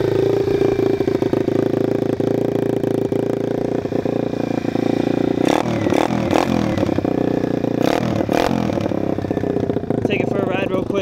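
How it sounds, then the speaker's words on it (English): Apollo 125cc pit bike, an Apollo RFZ DB-x18, running with a very loud exhaust, a steady close engine drone that holds the whole time, with brief revs or clatter around the middle and a voice speaking over it. "you guys probably can't hear me because the exhaust is extremely loud."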